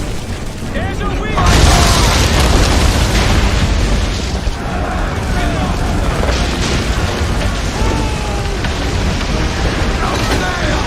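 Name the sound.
ship cannon broadside fire in video game Assassin's Creed III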